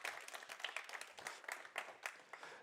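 A faint, scattered round of applause from a small audience at a developer talk greets the speaker, with separate claps audible in the thin, quiet patter.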